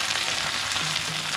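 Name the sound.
fenugreek seeds frying in sesame oil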